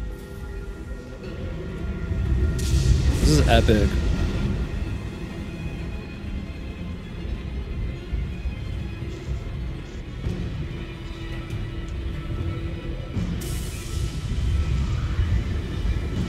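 Thunder in the snowy mountain setting of the video game Journey: a deep, rolling rumble swells and fades over a steady wind-like backdrop, with a brief spoken remark along the way.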